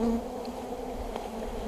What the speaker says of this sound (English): these bees are actually very gentle, even though they're flying around